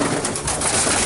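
Pigeons cooing steadily inside a young bird coop, older birds joining in, a close, dense murmur of overlapping coos with no talk.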